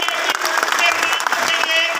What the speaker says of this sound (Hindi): एक बार जोरदार तालियां हमारे